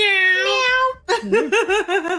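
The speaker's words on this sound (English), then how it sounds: "Yeah, we got the meow." A cat meows loudly in a long drawn-out call, then a rapid series of shorter wavering meows follows, close and clear with no talking over it.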